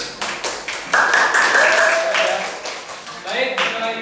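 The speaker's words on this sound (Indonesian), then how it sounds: "beri tepuk tangan untuk kelompok B." Classroom applause for a student group, scattered claps rising into a brief burst, with voices and other sounds over it.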